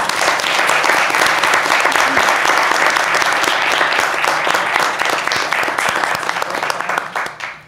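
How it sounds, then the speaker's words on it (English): Board of Education meeting audience applauding student artists, a full, even burst of many people clapping for over seven seconds, loud and continuous before tapering off at the end. "really excited if we can give a round of applause"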